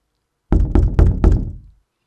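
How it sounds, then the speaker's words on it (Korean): Four firm knocks land on a wooden door at a steady pace, each one with a short resonant thud. The knocks come alone against silence and fade quickly after the last. "문을 두드리는 소리가 울려 퍼진다."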